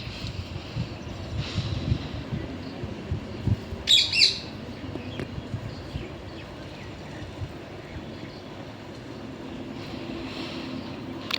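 A brief, sharp squawking bird call rises once over a quiet outdoor background hum, then the scene settles back to soft ambience.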